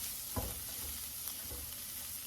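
Sweet potato chili cooking in a pan, a soft steady simmer and sizzle with a couple of faint stirring scrapes, quiet and close, with no talking.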